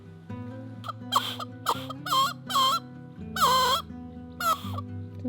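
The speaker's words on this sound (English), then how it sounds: "Look at chicken." A chicken clucks in a series of distinct calls close by, outdoors by the Todd Inlet on the Pacific coast, with a low steady hum running underneath.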